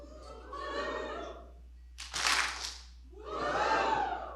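An audience of children at a Spirit Day event at MacDill Air Force Base shouts a loud group woohoo in swelling bursts, with a short sharp crash of noise between the rising cheers.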